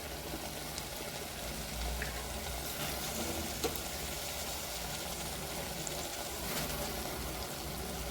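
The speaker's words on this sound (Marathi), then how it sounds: "आता याच्यामध्ये आपण या स्टेजला आपण आता मटकी टाकून छान त्या मटकीला पण फोडणीमध्ये परतून घ्यायचं" Moth beans (matki) tipped into a hot spiced oil tempering and stirred, giving a steady, close, low sizzle with soft spoon scrapes throughout and no voices.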